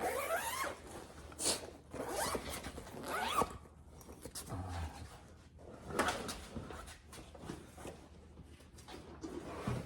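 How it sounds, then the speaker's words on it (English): Zipper on a large storage bag for Ford Bronco tube doors being pulled open in several quick rasping strokes, close up, with rustling fabric between pulls. "Once you have it unzipped, it's just a matter of swinging it onto the door."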